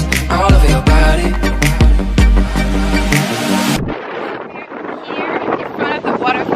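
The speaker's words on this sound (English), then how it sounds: "Here in front of the waterfall, it's pretty windy." Music ends abruptly, giving way to strong wind buffeting the microphone in front of the Niagara waterfall on Réunion Island, a rough, continuous rushing that stays loud throughout.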